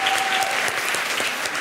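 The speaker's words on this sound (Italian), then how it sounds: "facciamo un applauso anche a Assunta." A crowd applauds steadily, a dense patter of clapping hands that continues without pause from start to finish.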